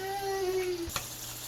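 Fried plantain and gizzard sizzle steadily in a pan, a soft continuous crackle with a brief utensil knock partway through.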